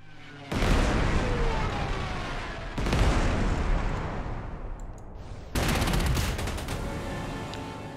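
Heavy artillery barrages boom through a World War II strategy game, with three long rumbling bursts of massed shelling, each starting abruptly and rolling on loudly before the next salvo, with no talk over them.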